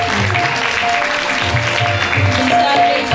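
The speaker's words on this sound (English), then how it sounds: "Keep the applause going, every clap adds to it." Audience applause at a school award ceremony, Medha Manyata Divas at Bhavan Vidyalaya in Panchkula, steady and sustained clapping filling the hall with a faint background tone and some murmuring throughout.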